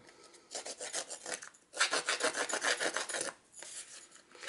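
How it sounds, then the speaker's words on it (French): A tool scraping the edge of scrapbooking cardstock: rapid rhythmic rasping strokes in two close bursts separated by a short pause, then resuming, with no talk. "donc là, je vais le gratter un peu"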